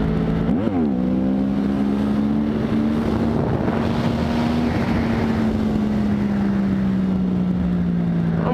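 A motorcycle revs hard through the gears for a wheelie, its engine note rising in a loud, steady drone with a quick pitch sweep early on, under heavy wind noise.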